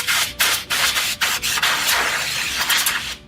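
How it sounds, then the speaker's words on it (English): Canned air hisses in short, close, forceful bursts, several spurts in quick succession broken by brief gaps, blowing caked dust out of a fiber optic camera connector, with no talking. "All I need to do is take some canned air,"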